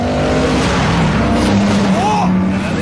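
Race cars roar off at the start of a street race, engines revving loudly and steadily throughout with a rising whine near the end, mixed with other continuous noise.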